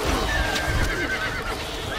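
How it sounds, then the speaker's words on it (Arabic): A horse neighs in the video game Stronghold Crusader HD, a loud whinny that rises over hoofbeat-like clatter with faint game background. "الحصان سريع."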